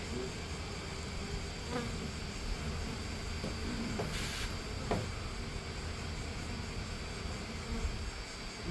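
Honeybees buzz continuously during a bee removal, a dense steady drone close by with a few faint knocks and clicks underneath, no voices.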